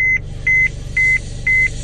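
A household appliance, likely a microwave, gives four evenly spaced electronic beeps, each a short high tone in a steady rhythm, loud and close, over a low hum with no talk.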